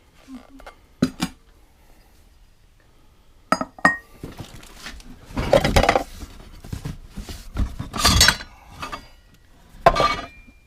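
Fire King milk glass dishes being handled in an old farmhouse, clinking and knocking against each other. Sharp chinks come in irregular clusters, some louder and some soft, with no talk.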